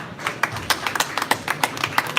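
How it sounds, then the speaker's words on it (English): An audience applauds at a speaker series event in Shanghai, a brief burst of clapping from a modest crowd, uneven but steady, with no talk. "Please, big applause for Jane."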